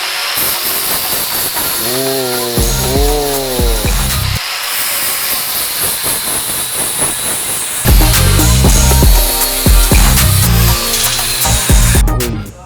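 Loud power sander grinding and whirring against metal, starting and stopping in bursts, with wavering pitch and harsh scraping hiss.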